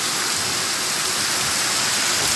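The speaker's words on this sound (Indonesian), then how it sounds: "sekitar setengah jam yang lalu kembali diguyur hujan" Rain pours down steadily over Banda Aceh, a thick unbroken wash of falling water on surfaces, loud and even with no voices.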